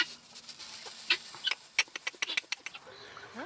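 Chickens, Easter eggers among them, cluck and squawk in quick irregular bursts at a roost inside a coop, faint and close, with a little rustling and no talk.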